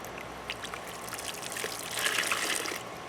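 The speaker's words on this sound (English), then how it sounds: "So just giving it an easy squeeze to get as much of this gross water out as I can." Dirty wash water drips and trickles out of a raw wool fleece being squeezed by hand during outdoor scouring, a soft close splashing that swells toward the end, with no voices.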